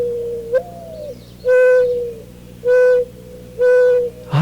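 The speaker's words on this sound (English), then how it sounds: "Listen, a mournful owl-like cooing sound coming from somewhere nearby." Three evenly spaced, loud, mournful cooing calls from a sleek pinkish gray dove perched on a backyard telephone wire, each note long and hollow, with a faint steady hum underneath.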